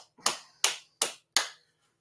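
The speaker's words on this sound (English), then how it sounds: "Clap it up, y'all." Four sharp, close hand claps ring out at a steady, unhurried rhythm in a quiet room, each with a short decaying tail.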